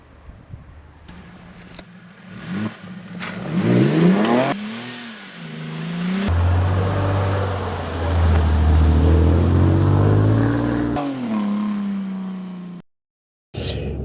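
An Alfa Romeo 159 Ti with a 3.2 JTS engine and Q4 all-wheel drive pulls away and drives on. A loud, steady engine drone rises and falls with gear changes, and there are brief cuts between segments.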